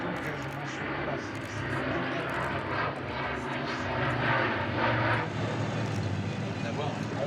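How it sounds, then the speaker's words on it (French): Aircraft making a tight low-speed turn during a flying display at the Le Bourget 2015 airshow, a loud continuous engine roar that swells midway, heard under ongoing commentary. "l'aérodynamique et de cette puissance permet à l'avion d'effectuer un demi-tour quasiment sur place"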